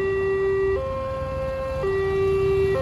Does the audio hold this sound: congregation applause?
no